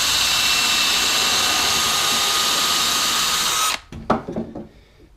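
A power drill on high speed with a 1/8 inch bit drills holes near the corners of wooden legs for a long Langstroth horizontal beehive, whining loudly and steadily before cutting off, followed by a few clunks.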